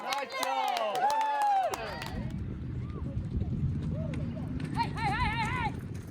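Hooves pounding on dirt beneath crowd noise, with several high, wavering neighing calls rising at the start and again near the end.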